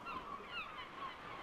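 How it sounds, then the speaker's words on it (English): Seabirds nesting on a cluster of rocks opposite the cliffs at Easter Island, heard as a steady chorus of honking, goose-like calls at moderate distance with no talk over them. "home of some of the last surviving birds nesting at Easter Island"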